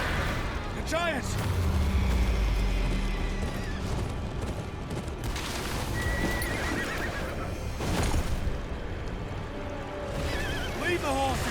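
Horses in the Game of Thrones: Kingsroad video game whinny repeatedly among clopping hooves and loud battle noise, with several sharp neighs rising over a dense, constant action soundscape.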